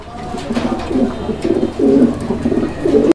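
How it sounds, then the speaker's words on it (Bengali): Pigeons at a pigeon farm, including black Lahori pigeons, coo in soft, rolling low phrases repeated several times at close range, with little else in the background. "চমৎকার আরও এক জোড়া কবুতরের কালেকশন রয়েছে"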